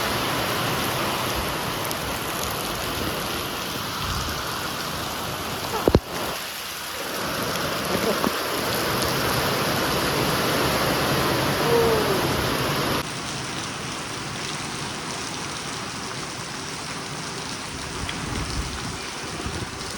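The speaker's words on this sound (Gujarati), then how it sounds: "બહુ વરસાદ આવી ગયો" Heavy rain pours steadily in a dense, hissing wash, broken by a sharp crack and a low rumble partway through before easing slightly.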